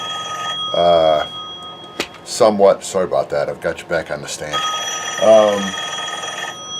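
A telephone rings with an incoming call in a workshop during a Taylorcraft aircraft restoration, loud warbling bursts at the start and end, with someone talking in between.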